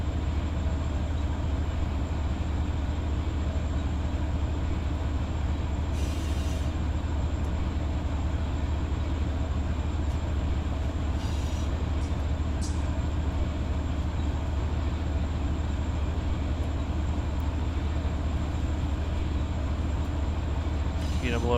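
A CSX freight train rolls along the Mohawk line near Schenectady, New York, in the Run 8 train simulator game, a steady, low, droning rumble throughout with a few faint clicks and rattles.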